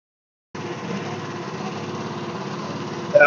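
A small FF Industrial FF-13 Chinese mini excavator engine runs steadily at close range, starting abruptly after a short silence and holding a loud, buzzing drone with a slight rise at the end.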